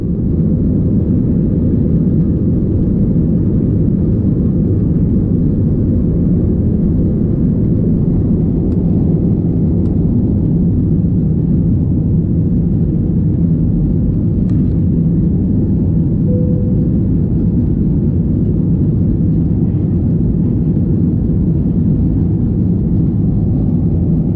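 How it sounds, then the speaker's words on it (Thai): Inside a Thai Smile airliner departing Phnom Penh airport, a deep, steady engine roar and rumble fills the cabin continuously and loudly throughout, with no talk. "เดี๋ยวให้ไปชมบรรยากาศเครื่องบินวิ่งขึ้นจากสนามบินพนมเปญนะครับ"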